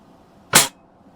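A single Daisy 120 pellet rifle is fired at a target, giving one sharp, short crack close by. Quiet background surrounds it on either side.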